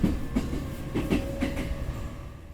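A subway train in the Persona 4 video game rolls along its rails with a steady rumble and regular clickety-clack wheel beats, heard alone without talk.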